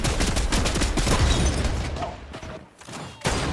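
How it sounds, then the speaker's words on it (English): Rapid continuous minigun fire in the video game Fortnite, a dense loud rattling burst that runs steadily for a few seconds, then thins out with brief gaps and a final short burst. "Infinite minigun"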